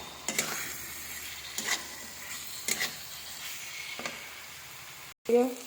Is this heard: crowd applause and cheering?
no